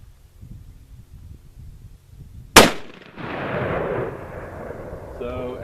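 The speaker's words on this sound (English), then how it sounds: "that's the Remington 770 in 300 Winchester Magnum" A Remington 770 rifle chambered in 300 Winchester Magnum fires a single sharp, very loud shot outdoors, followed by a rolling echo that lingers over quiet background noise.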